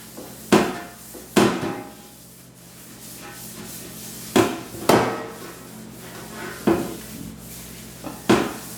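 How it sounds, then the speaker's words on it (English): Olive oil being rubbed around a pizza pan, a soft scraping rub broken by several sharp metallic knocks and clunks of the pan, close by and alone. "And now I'm going to rub this around the pan."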